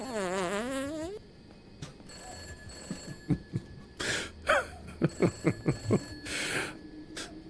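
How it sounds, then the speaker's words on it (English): A telephone rings at the start with a warbling electronic trill for about a second, then gives way to a series of clicks, knocks and short bursts of noise, close and fairly loud. "Phone's ringing, phone's ringing."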